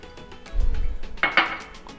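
Butter and bacon grease get mixed in a bowl, with a soft low thump followed by a couple of sharp clinks of a utensil striking the bowl, short and close.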